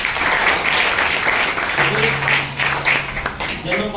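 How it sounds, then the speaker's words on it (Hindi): A meeting audience breaks into loud, sustained clapping that holds strong for a few seconds before thinning out, with a voice rising over it near the end. "एक बार जबरदस्त तालियां मारो"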